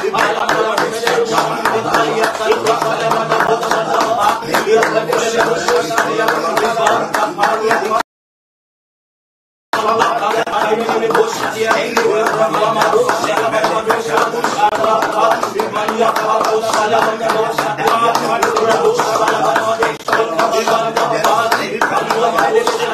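A congregation claps steadily during prayer at a prophetic church service, rapid, continuous hand claps blending with loud vocal prayer and music, briefly cut to silence partway through.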